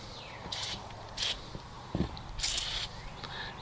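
Three short hissing sprays of caustic solution from a spray bottle onto old lanterns during nickel restoration, separated by brief pauses, with a soft thump and faint handling noise in between.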